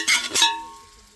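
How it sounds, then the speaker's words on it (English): Lamb pieces hitting a hot camp oven potjie pot over a fire give a short, close sizzle with two quick bursts that fade within about a second. "Nice sizzle happening there."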